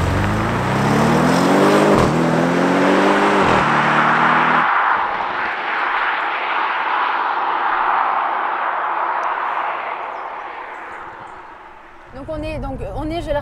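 An Audi RS6 C7 560 hp twin-turbo engine revs hard through quick gear shifts in dynamic mode, its pitch climbing and dropping, then settles into a loud rushing drone, with a voice briefly at the end.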